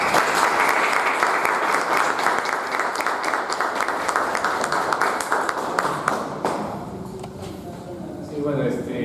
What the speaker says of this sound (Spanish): démosle un aplauso a esta mesa